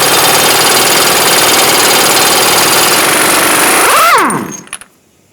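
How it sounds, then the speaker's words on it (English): An air impact tool rattles continuously and loudly as a 32mm socket spins off the front axle nut of a 2000-2007 Ford Focus, then winds down with a falling whine and stops. "Using a 32mm socket, remove the axle nut."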